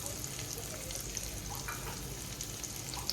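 Chopped garlic and sliced chilies frying in melted butter in a pan make a faint, steady sizzle with small crackles, continuous and low in level.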